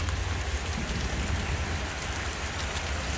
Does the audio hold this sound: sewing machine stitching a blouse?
no